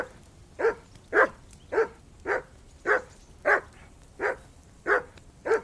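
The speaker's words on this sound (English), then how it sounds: "That barking was a pain in the ass." A dog in the video game Kingdom Come: Deliverance II barks in an evenly spaced series of nine sharp, mid-distance barks, each about half a second apart, with no talk over them.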